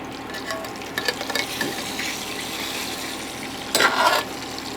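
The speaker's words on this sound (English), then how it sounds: "It'll start bubbling in about 2 or 3 minutes or so, but we're gonna let this cook for about 10 to 12 minutes" Pork belly for Filipino lechon kawali deep-frying in hot oil, giving a steady close sizzle with bursts of bubbling and one louder crackling surge near the end, along with a few light utensil clinks.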